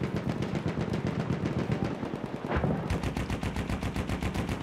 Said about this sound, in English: Okay, I'm getting shot at.